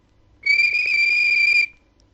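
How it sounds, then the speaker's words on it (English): A railway guard's whistle sounds once, a single loud, steady shrill blast of just over a second, standing alone against near silence. "guard waved his flag and blew his whistle."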